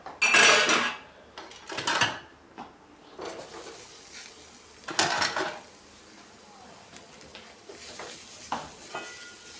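A small child in a home kitchen tossing metal pots and utensils around, loud clanging and rattling clatters in irregular bursts, close by, with quieter gaps between crashes.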